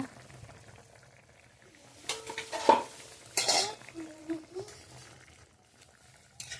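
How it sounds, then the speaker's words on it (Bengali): A lid comes off a cooking pot of hilsa fish head simmered with taro leaves and potatoes, giving a short metallic clink and scrape followed by soft clatter of the pot, close by and quiet. "এবার আমি ঢাকনাটা খুলে নেব।"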